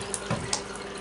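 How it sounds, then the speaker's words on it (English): Shower water in a bathtub with a busted stopper running straight down the drain, a quiet steady hiss and gurgle with small splashy flickers, close by and without speech. "When you turn on the shower, you lift up a little knob, and way too much water goes down the drain."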